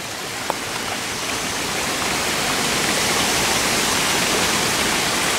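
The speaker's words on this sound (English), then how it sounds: "Good water flow." Water flows through a garden pond filter system filled with bio balls, a steady, loud, close rushing and splashing like a small waterfall, heard alone without talk.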